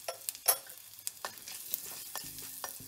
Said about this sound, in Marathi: आता आपण हिंग टाकून घेणार आहोत.